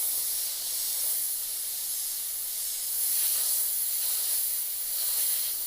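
An airbrush sprays yellow paint onto a fantasy skeleton knight miniature, producing a steady, soft continuous hiss of air that swells slightly at moments and stays close throughout.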